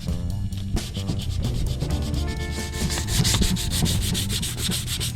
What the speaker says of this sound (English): I'm sanding off all the little scratches from the utility blade that I used